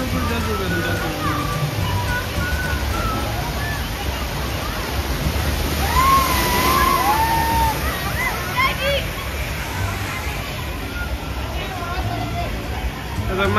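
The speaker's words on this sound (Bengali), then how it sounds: "উপরে দেখ ওই যে উপরে জল পড়বে।" Water pouring and splashing down from an overhead feature at a crowded water park, a steady roar of falling water and sloshing under lively crowd chatter and distant voices.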